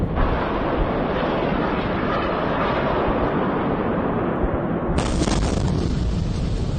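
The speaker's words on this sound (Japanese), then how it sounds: "住民が撮影したこの映像では、至近距離で爆発している様子を映像で捉えています。" Close-range explosion of an Iranian missile striking an apartment building in a city centre, heard as a loud sustained roar of blast noise and rumbling debris with wind buffeting the microphone, a sharper burst near the end.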